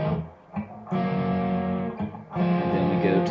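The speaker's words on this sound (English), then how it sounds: "The distortion tone that I'm getting in this guitar lesson all comes from this pedal called the Axentrix A1." A distorted electric guitar through an Axentrix A1 pedal plays a riff, with sustained crunchy chords in three bursts separated by brief gaps, close and fairly loud.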